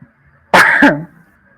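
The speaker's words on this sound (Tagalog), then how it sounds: "oops, inuubo na po ako" A single sharp, loud cough close to the mic, lasting about half a second between quiet pauses.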